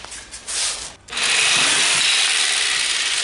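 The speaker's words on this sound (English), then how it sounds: "Just do this with a jigsaw." A jigsaw cuts through a wooden 2x6 for a dry erase board easel, sounding as a loud, steady, broadband buzzing rasp that runs continuously after a short start-stop at the beginning, with no talking.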